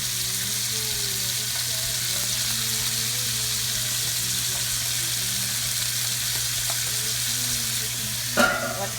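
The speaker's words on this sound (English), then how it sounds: "going to brown the bracioles a little bit. Make sure the oil is hot." Bracioles browning in hot oil in a pan for Italian Sunday sauce, a steady loud sizzle and crackle throughout, with a brief clatter near the end.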